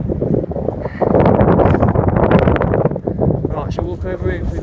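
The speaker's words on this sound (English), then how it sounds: "this wind's biting." Strong, biting wind outdoors on a country walk, roaring and buffeting loudly against the microphone in gusts.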